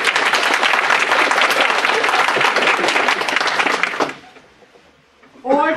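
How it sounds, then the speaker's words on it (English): A crowd claps and applauds loudly for about four seconds, then the clapping dies away to near silence before a voice begins speaking. "let's have a round of applause"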